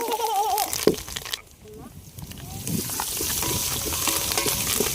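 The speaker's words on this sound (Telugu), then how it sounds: "అల్లం వెల్లుల్లి పేస్ట్ పచ్చివాసన బాంత వరకు బాగా ఫ్రై చేసుకోవాలి" Onions, green chillies and curry leaves frying in oil for country-chicken pulao, a steady sizzle that drops away briefly then returns, with stirring, under intermittent talk.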